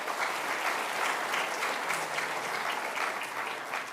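Steady audience applause fills a high school awards ceremony hall after a scholarship announcement, a dense even patter of many hands clapping with no voices over it, holding at one level for the whole stretch.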